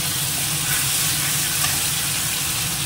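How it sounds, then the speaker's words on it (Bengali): Spice paste and ginger paste frying in a pan, giving a loud, dense, continuous sizzle and hiss with faint stirring underneath, close up and without speech. "এটা দিয়ে দিয়ে একটু কষিয়ে নেব। আর একটু এর মধ্যে একসঙ্গে আদা বাটা দিয়ে দিলাম"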